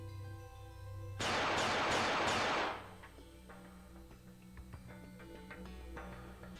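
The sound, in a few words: gunshots sound effect in visual novel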